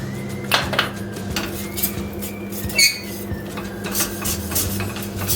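Dough for profiteroles being stirred in a metal pot, with repeated scraping and squeaking of the spoon against the pan and occasional clinks, close and moderately loud, no talking.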